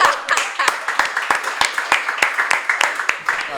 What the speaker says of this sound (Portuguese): Palmas pro cara da plaquinha também.